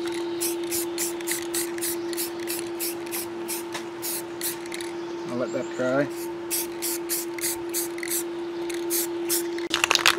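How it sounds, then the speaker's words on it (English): Spray paint cans hiss in short repeated bursts onto a Nerf blaster, with a steady background tone and people talking over the spraying. "these guys are shaking the spray paint bottles"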